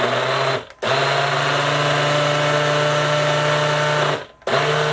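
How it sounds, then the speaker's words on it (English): A Hamilton Beach personal blender churning large pieces of fruit, a loud steady motor whine running in two bursts with brief pauses between them, close up and without speech. "it only really blends halfway, so that kind of sucks"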